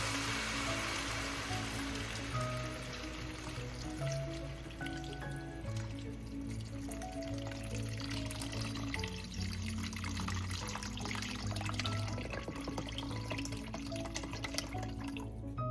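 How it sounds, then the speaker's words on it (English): Water pours steadily into a pot of Filipino lomi, a thick egg noodle soup, a continuous splashing trickle heard close over a low hum, with faint clinks and no talking. "Add some water."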